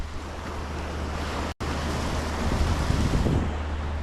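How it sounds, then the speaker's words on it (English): Rough, heavy ocean surf rolls and breaks onto a beach in a steady loud wash, with wind buffeting the microphone and one brief dropout partway through. "the waves are too big"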